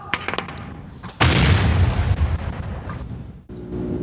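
A grenade explodes in the video game Black Mesa: a few sharp pops, then a heavy, loud boom that rumbles and fades over about two seconds before other game sounds resume.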